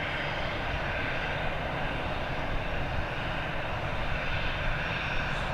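An Enter Air airliner departing Dublin Airport for Gatwick gives off a continuous moderate engine roar, fairly distant and steady for the whole stretch, with no voices.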